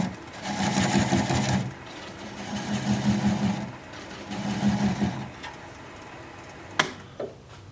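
A wood lathe spins a mulberry piece at about 400 RPM, giving a steady rotary hum with three pulsing bursts of tool contact separated by short lulls, then sharp knocks near the end.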